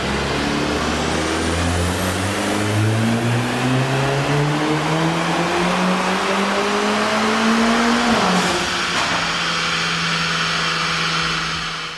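A Mercedes A45S AMG with Stage 1 tuning and high turbo boost revs hard on a dynamometer, its engine note climbing steadily and loudly for about eight seconds before a sudden drop and a lower sustained drone.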